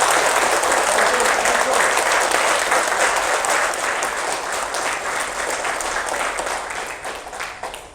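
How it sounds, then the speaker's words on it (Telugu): An audience at a class in Ongole applauds the guru, a loud, sustained burst of clapping that holds steady and then gradually thins and fades toward the end. "ఒకసారి గురువుగారికి గట్టిగా క్లాప్స్"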